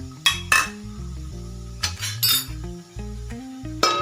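A metal spoon clanks and scrapes against a cooking pan while red chilli powder, onion-garlic masala and cumin powder are mixed for a brinjal masala dish, several bright clinks in irregular bursts over a steady tonal background.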